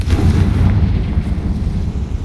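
A Confringo blasting spell explodes in Hogwarts Legacy, a dense, sustained low-end boom and rumble filling the scene with a rolling, crackling roar at steady loudness and no talk.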